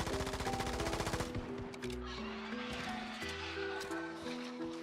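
A P90 with a 134-round magazine in a video game fires a rapid burst of automatic gunfire for about a second, then stops, leaving game music and faint horse sounds.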